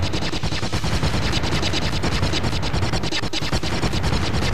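Starfighter laser cannons in the Clone Wars Adventures video game fire in a rapid, continuous barrage of loud, dense blasts, like machine-gun fire, with no talking.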